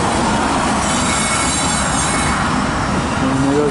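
A CN freight train, likely a grain train, rolls past close by on the rails, a loud steady roar of wheels and cars with faint wheel squeal and rail clatter throughout, with no talk.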